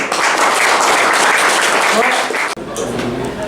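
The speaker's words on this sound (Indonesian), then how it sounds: "Tepuk tangan dulu." A crowd applauds loudly and steadily for a few seconds at a prison event in Samosir, the clapping dense and continuous before cutting off abruptly, with a quieter murmur of voices after.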